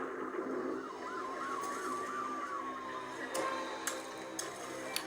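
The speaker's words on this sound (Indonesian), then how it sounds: "Lagi hujan, terus kayak ada pemadam kebakaran gitu" A fire truck siren from a cartoon scene wails in repeated rising and falling sweeps, steady and moderately loud, with a few sharp clicks near the end.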